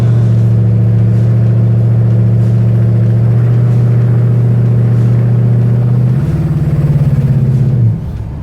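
A 1971 Chevrolet Chevelle V8 idles loud and close with a deep steady rumble, then blips up to a higher rev near the end before dropping off.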